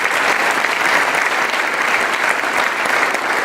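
Dense, steady applause from a seated audience honoring graduates at an undergraduate recognition ceremony, sustained at even loudness throughout without a break.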